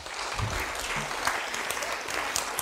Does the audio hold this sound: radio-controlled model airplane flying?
no